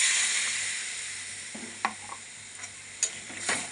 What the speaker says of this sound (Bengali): এখন আমি এই বাটি ধোয়া জলটা দিয়ে দেব